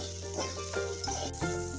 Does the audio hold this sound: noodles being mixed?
yes